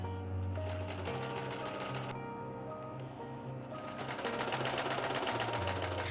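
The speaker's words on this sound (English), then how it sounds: "I stitched it together along the outer edge, then understitched from the top to help the seam lie flat." A domestic sewing machine stitches a dress collar, running with a steady loud mechanical whir and rapid needle chatter, briefly changing pitch and speed partway through, with no talking.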